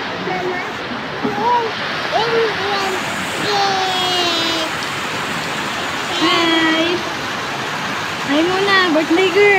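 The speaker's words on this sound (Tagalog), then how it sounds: "naulan yung birthday ni Aren" Steady rain patters on surfaces throughout a birthday gathering, forming a constant hiss beneath people talking and children calling out close by.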